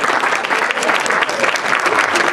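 Wedding guests applauding, a dense, loud burst of many hands clapping together continuously, close and full throughout.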